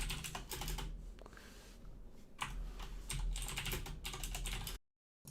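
Commands are typed on a computer keyboard in close, rapid bursts of key clicks with a brief pause, ending abruptly in silence.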